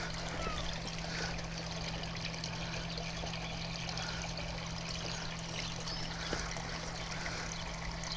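Water from four 44mm koi pond filter returns, fed by two 10,000 litre pumps running full bore, pours in a constant, even splashing rush with a low steady hum underneath, heard alone without speech.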